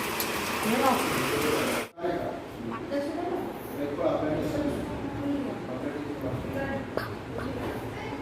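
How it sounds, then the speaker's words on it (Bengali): Steady rain patters in the background while people talk nearby, with a brief break in the sound partway through. "বৃষ্টি হয়েই যাচ্ছে"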